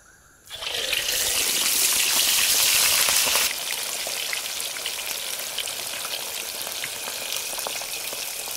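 Pomfret fish dropped into hot oil gives a sudden loud hiss that becomes a steady, dense crackling sizzle, close by and easing slightly after a few seconds, with no talk.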